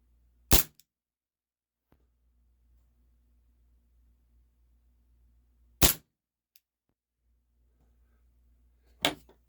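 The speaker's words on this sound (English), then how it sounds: "let's get a little of the blowback action on this. Show you. Pretty violent blowback" A Cybergun Desert Eagle airsoft pistol fires three sharp, loud cracks of violent blowback, widely spaced, with a low hum and quiet handling noises in between.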